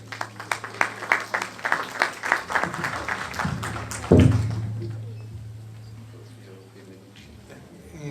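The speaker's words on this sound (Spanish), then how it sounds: "Por favor, un fuerte aplauso." A medical conference audience claps in a brisk, steady burst of applause for about four seconds. A speaker's voice then takes over and continues alone.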